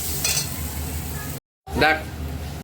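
Potatoes and onions stirred and fried in a pan for Nepali chukauni, with a steady close sizzle and scraping spoon strokes, broken by a brief silent cut before the stirring resumes.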